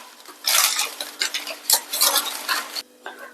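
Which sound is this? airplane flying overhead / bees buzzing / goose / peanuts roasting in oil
peanuts roasting in oil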